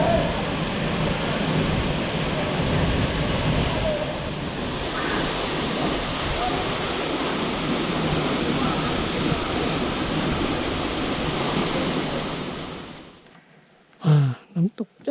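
A waterfall in Thong Pha Phum national park roars as a dense, continuous wash of falling water for most of the clip, then cuts off abruptly near the end, leaving brief faint sounds.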